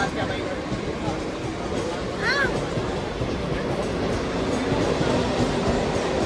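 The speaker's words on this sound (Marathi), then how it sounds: "ट्रेन आली." A train arriving at a station rumbles steadily nearby with broad low roaring noise, while people talk over it and a faint high squeal rises briefly.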